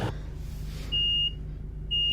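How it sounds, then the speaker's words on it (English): A gap buzzer sounds in a diesel train cab in Train Simulator Classic on a cross-country run from Exeter St Davids to Bristol Temple Meads, with two steady electronic tones over the low cab hum. "So there's the gap buzzer."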